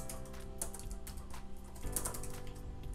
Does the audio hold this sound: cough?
no